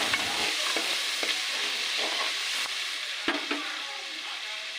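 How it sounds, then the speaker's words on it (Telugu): Tomatoes stew in a hot pan with a continuous loud sizzle and frying hiss, broken by occasional scraping taps of a spoon stirring them. "టమాటాలు మగ్గుతున్నాయి"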